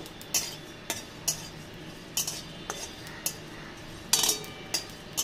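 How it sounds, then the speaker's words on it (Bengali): Panch phoron and cumin are dry-roasted in a kadai with no oil, and a utensil clinks and scrapes against the metal in sharp, irregular taps over a quiet background. "মশলাটা ভেজে নেব।"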